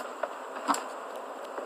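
Faint, thin insect buzzing of mosquitoes hovers steadily through the stretch, with a few soft clicks and brief knocks, no speech.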